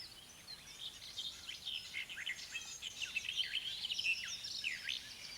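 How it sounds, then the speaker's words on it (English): A nightingale sings from deep inside a dense thicket, sending out a continuous run of varied, fluting and chirping phrases. It sounds moderately distant and fairly faint against a soft outdoor background with no voices. "The sound of the nightingale is well known, but because the bird sings from within a dense thicket, most often at night, it's a very uncommon sight."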